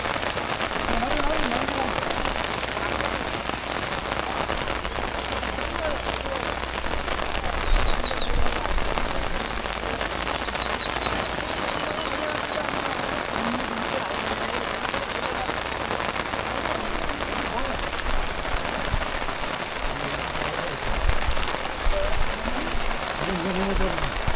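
Steady rain falls outdoors around a newly built house, a dense, even patter that continues throughout with people talking at times.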